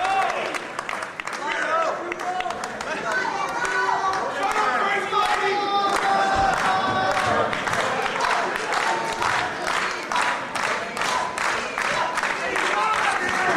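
Wrestling crowd at a match between two wrestlers, cheering, chanting and clapping rhythmically in a steady, dense roar throughout, with faint commentary voices underneath.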